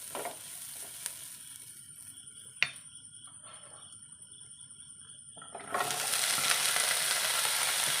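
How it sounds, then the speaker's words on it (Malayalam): Vegetable pieces for an Onam avial go into a pan: a soft sizzle and faint stirring, one sharp clack partway through, then the frying swells into a louder, fuller hiss near the end. "നമുക്കിനി നമ്മൾ കഷ്ണങ്ങൾ ചേർത്ത് കൊടുക്കാം"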